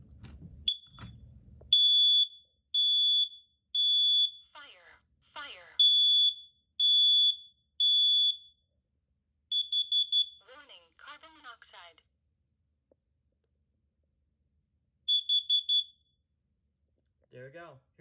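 A smoke alarm on a demo test board lets out loud, piercing high beeps in regular bursts of three, pausing between sets, with brief quiet speech in the gaps.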